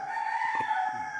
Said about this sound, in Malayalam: നിങ്ങൾക്ക് ഇടയ്ക്കിടയ്ക്ക് കോഴികൾ കോഴിയുടെ കൂവൽ കേൾക്കുന്നുണ്ടാവും